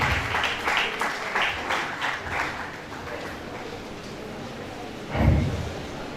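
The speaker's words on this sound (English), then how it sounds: "A round of applause, please." An audience at a World Food Programme gathering claps, a dense crowd applause that is loudest at the start and gradually thins, ending with a brief louder burst.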